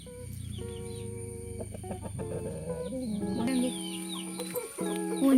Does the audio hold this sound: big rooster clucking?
yes